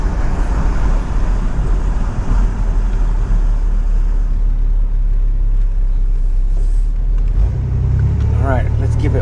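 A 1993 GMC Sierra OBS pickup on adjusted coilovers rolls down the road with a loud, steady low rumble of engine and road noise that deepens and swells near the end, with voices speaking over it.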